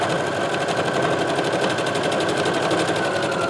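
A sewing machine runs steadily, stitching scrap fabric in a continuous fast whir with a regular needle rhythm, loud and close throughout with no talk.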